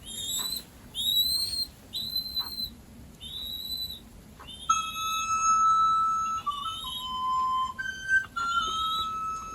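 A baby pigeon whistles and chirps in a series of clear, high, repeated calls, some rising and some held as steady tones, close and fairly quiet with no talking.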